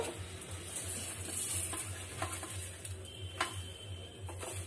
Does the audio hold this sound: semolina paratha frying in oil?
yes